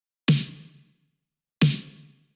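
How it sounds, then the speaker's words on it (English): Two punchy 1980s-style drum machine snare hits, each a sharp crack followed by a long, bright reverb tail that fades out before the next strike, heard alone and fairly soft. "So after that, we have the snare,"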